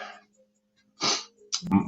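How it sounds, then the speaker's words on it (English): A single person's sneeze bursts out close and loud, with a sharp inhaled build-up and an abrupt explosive release near the end, after a brief breathy sound and a quiet pause. "I gotta sneeze and I feel it coming"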